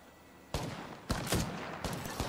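Three short bursts of weapon fire in Apex Legends, each a loud crackling volley of rapid shots separated by brief pauses, alone over a quiet in-game background.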